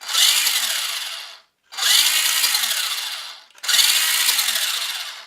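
A small electric motor of a remote-controlled desert buggy whines loudly in three bursts of about a second and a half, cutting off briefly between each rev.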